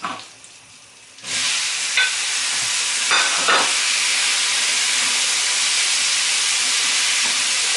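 Pears frying in butter melted with sugar for a pear cheesecake with crumble topping. After a quiet first second, a loud, steady sizzle and hiss of frying starts and continues up close without talk.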